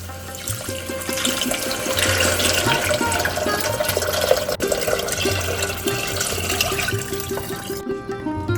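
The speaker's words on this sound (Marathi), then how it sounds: "जो आपण पाणी आणि चना डाळीचं मिक्सर केलं ते टाकणार आहोत" A mixture of water and gram flour pours steadily into a pot for Maharashtrian katachi aamti, with a continuous splashing, gurgling rush and no voices.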